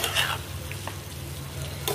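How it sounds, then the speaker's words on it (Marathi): Fried paneer being stirred into a simmering gravy, a steady soft sizzle with brief scraping strokes near the start and end, close and moderately loud with no talk. "आता आपलं पनीर फ्राय केलेलं त्याच्यामध्ये टाकून देऊ आपण, मिक्स करून घेऊ आता पनीर आपलं"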